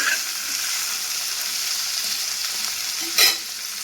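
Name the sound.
frying tomato in a pan for begun sundori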